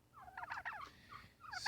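A Spanish Black heritage turkey gobbles once, a quick rattling warble rising and tumbling at close range, followed by a brief softer call, faint but clear over a quiet background.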